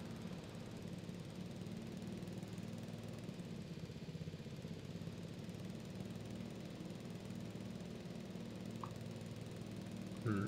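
Ride-on lawn mower engine in a video game, stuck in place with the blades shut off, droning steadily at a constant low pitch throughout with no talk.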